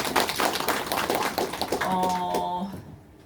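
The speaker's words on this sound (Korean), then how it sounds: "우리 김은영 아이오님한테 큰 박수 한번 부탁드리겠습니다" Brief scattered clapping from a seminar audience for a speaker, mixed with murmuring voices and a tonal chime-like sound near the end before fading out.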